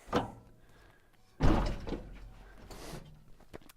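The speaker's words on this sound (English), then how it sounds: "Aluminess's solution for opening the door is this that grabs the handle for you" An Aluminess door opener works the door of a Ford Transit AWD EcoBoost camper van. A soft clunk comes first, then a loud thunk as the door releases, followed by a sliding rumble and rattle.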